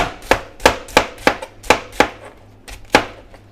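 Knife chopping through a head of cabbage on a cutting board, about eight sharp crisp cuts in a steady then slowing rhythm, close and clear with no talking.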